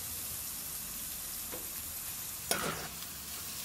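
Peppers frying with garlic in a pan give a quiet, even sizzle, broken by a brief stirring scrape and a sharper clatter midway.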